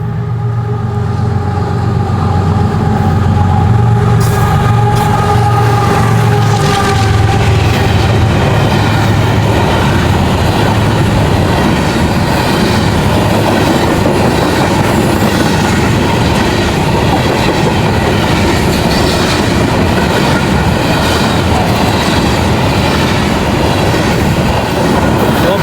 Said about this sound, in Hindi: एक डाउन ZB KH कोल होपर का रेक